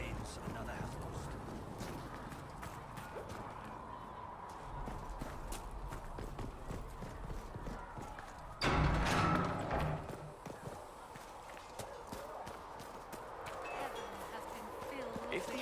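Steady clip-clop of horse hooves trotting on hard ground in the video game Dragon Age: Inquisition, continuous and mid-distance, with a brief louder burst of activity partway through.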